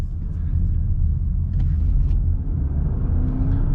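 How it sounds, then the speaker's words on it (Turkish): Low, steady petrol engine rumble of a Volvo XC40 T5 Recharge plug-in hybrid heard from inside the car, a continuous drone with faint whirring and no talking. "Bakın şimdi motor açtı"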